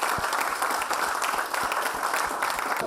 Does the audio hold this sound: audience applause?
yes